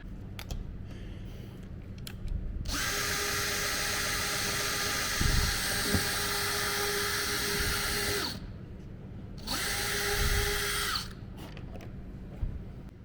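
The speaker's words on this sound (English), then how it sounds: "Chris has just drilled the hole for the feed for that isolated section" A power drill bores a hole through a model railway baseboard for a track feed wire, running at a steady high whine for about five seconds, stopping, then spinning again in a shorter second burst, close up with no talk.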